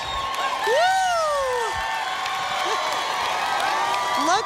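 A live crowd cheering and whooping at a show opening at Grand Casino, a steady roar of voices with rising whistles and shouts throughout, close and loud, with someone speaking over it.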